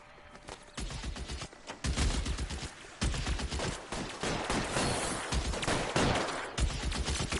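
Gunfire in the video game L.A. Noire: dense, repeated shots and volleys crack loudly in rapid clusters, almost continuous throughout, with no talking.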